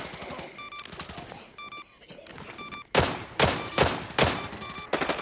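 Gunfire in the Arena Breakout shooter game, with a shotgun in play: a string of loud, sharp shots in the second half, each with a booming decay, after quieter clicking and handling noises.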